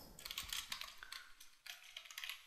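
A name typed on a computer keyboard: a steady run of quick, light key clicks heard up close, with a brief pause in the middle before the tapping resumes.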